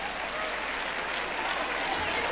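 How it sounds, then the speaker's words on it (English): A crowd at a Kenyan cultural celebration at Bomas of Kenya gives sustained, loud, even applause, a dense wash of clapping with no pauses throughout. "Give them a big round of applause one more time."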